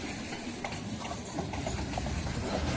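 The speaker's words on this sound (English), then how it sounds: "Here's the end of the train again," A CN Rail freight train carrying grain rolls past on the Preeceville Subdivision at Benito, Manitoba: a steady, fairly faint rumble with rhythmic clacking of wheels over rail joints and no voices.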